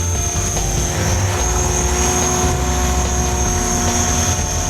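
An HK-500GT RC helicopter comes in to land in windy conditions, its rotor and motor giving a loud, steady whirring buzz with a constant high whine throughout.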